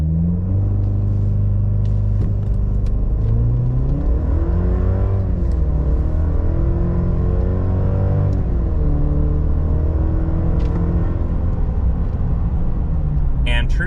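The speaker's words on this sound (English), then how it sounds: "Revved, boosted launch in the Silverado," A Chevrolet Silverado TurboMax with a turbocharged engine revs and then launches hard from a standstill, its loud rumble rising in pitch through the gears as it accelerates, while someone speaks over it.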